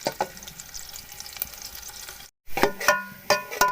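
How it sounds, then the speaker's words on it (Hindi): Two chopped onions sizzle in hot oil for a beef yakhni pulao, with close, steady frying crackle and sharp spatula clinks against the pan, a brief silent break, then livelier sizzling and stirring. "अब इसके अंदर डाल देते हैं प्याज कटी हुई, 2 अदद प्याज काटी हैं मैंने। प्याज को हमने अब गोल्डन करना है"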